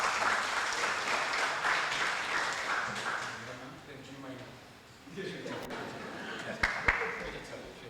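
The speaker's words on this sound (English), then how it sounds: "Give him a round of applause." A crowd claps and cheers steadily, the applause fading after a few seconds before a voice speaks over lingering room noise.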